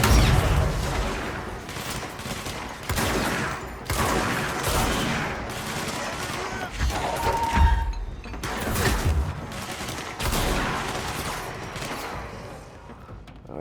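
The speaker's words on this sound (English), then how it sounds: "He's throwing a temper tantrum with all them bombs" Bombs explode in the video game Control, one heavy booming blast after another at irregular intervals, loud and close with rumbling tails.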